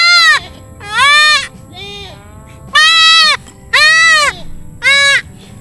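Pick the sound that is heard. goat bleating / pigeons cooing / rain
goat bleating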